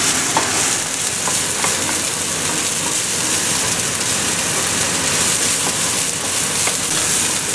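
Food sizzles in a pan as it is stirred, with soy sauce added, a dense, steady frying hiss running loud and unbroken from start to finish with faint scrapes.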